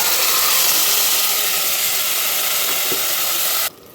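Fish slid into hot oil, a loud, steady hiss and sizzle close by that holds for several seconds before cutting off abruptly.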